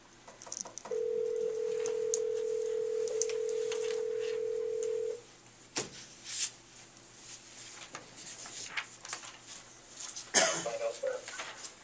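A speakerphone in a council meeting gives a sustained dial tone for several seconds, followed by scattered dialing clicks and short tones in a quiet room.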